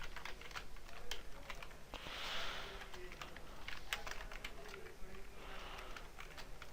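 Code is typed on a computer keyboard as a steady patter of quiet key clicks over a low background hiss, with no clear speech.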